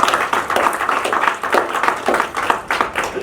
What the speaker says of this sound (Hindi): ताली बजाओ मुकेश के लिए